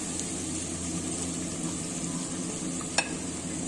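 Chicken in sauce with capsicum sizzles steadily in a hot pan, a continuous loud hiss with one brief clink of a utensil near the end and no talk.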